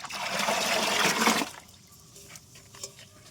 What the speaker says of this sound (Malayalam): ഇനി അതിലേക്ക് ഈ റെഡിയാക്കി വെച്ചിരിക്കുന്ന ഈ ഒരു മിക്സ് നമ്മളൊരു ബക്കറ്റിലേക്ക് മാറ്റി ഒഴിക്കാം